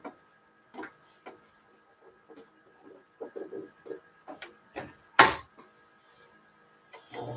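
An embroidery machine with a fault runs in fits, giving off irregular ticking clicks and soft knocks, then one sharp, loud clunk partway through before the tapping resumes at a quieter level.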